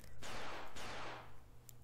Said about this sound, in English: I heard a gunshot, and I dove to the ground.